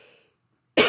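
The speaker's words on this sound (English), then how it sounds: "as soon as I start talking, I start coughing" A single sharp cough erupts close to the microphone near the end, following a brief trail of fading sound and a moment of silence.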